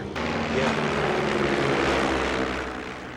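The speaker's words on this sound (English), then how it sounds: "It must be a mail plane." A propeller mail plane flies overhead in a 1985 adventure film, its engine drone loud and steady throughout before easing slightly at the end.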